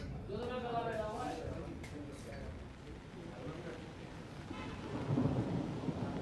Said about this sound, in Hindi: आपको आवाज़ें भी सुनाई दे रही होगी तेज बिजली की